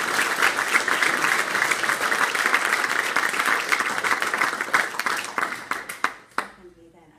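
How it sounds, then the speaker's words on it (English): Evening library audience giving a guest another round of applause, dense clapping that thins near the end into a few scattered claps before fading, then a voice begins speaking. "So I'll ask for another round of applause."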